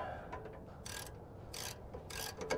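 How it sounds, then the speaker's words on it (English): A wrench runs jam nuts down on a Clayton 3.5-inch overland lift kit with Rancho RS9000XL shocks, giving a few faint, brief scraping ratchet strokes at close range, quiet and alone. "Now, we got to come and run our jam nuts down on each side."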